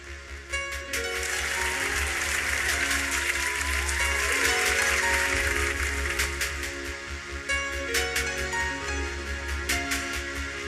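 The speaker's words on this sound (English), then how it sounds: "Let's celebrate them with a round of applause." Round of applause from the audience at an expatriate awards ceremony in Ghana, a sustained, moderately distant patter of many hands over a low background hum.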